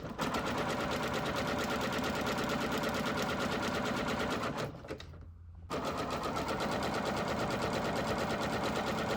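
Sewing machine stitching fabric for a drawstring bag, a fast rapid-fire mechanical chatter running steadily and close, stopping for about a second before resuming at the same pace.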